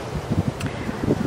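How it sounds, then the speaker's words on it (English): Wind buffets a nearby microphone at the Gran Bahia Principe Coba resort, with low, gusty rumbling and soft rustling throughout, no voices. "I hope you guys can hear me through the wind."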